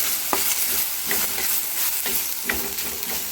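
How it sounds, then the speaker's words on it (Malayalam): Curry leaves are stirred into a frying tomato curry with onion, garlic and ginger, giving a constant close sizzle broken by regular spoon scrapes and knocks against the pan roughly every second. "കറിവേപ്പില രണ്ട് തണ്ടില ഇത് ഇട്ട് നന്നായിട്ട് ഇളക്കി കൊടുക്കാം"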